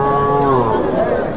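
Cattle mooing loudly and close at a village livestock market, several overlapping calls with a busy crowd murmur beneath.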